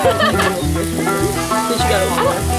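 Bacon dropped into a hot pan hisses in a loud, continuous sizzle close by, with voices talking over it.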